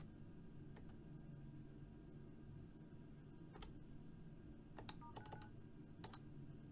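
Keypad tones sound as someone logs in to an office desk phone: a few sparse, quiet beeps and short tonal presses scattered over a faint steady hum, with no talking.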